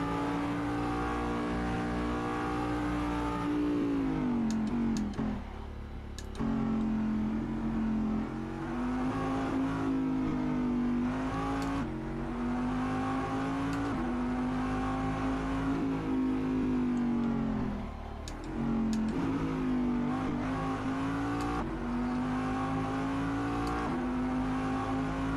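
A Daytona Prototype race car's engine drones loud and close at high revs on Midfield Raceway in Assetto Corsa, holding a steady pitch that dips and climbs again through gear changes and lift-offs, alone with no talk.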